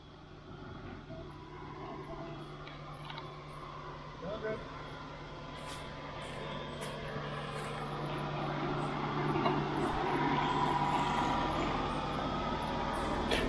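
A vehicle creeps slowly down over a drop-off on a state forest track, its low engine rumble steady and gradually swelling, with voices talking over it.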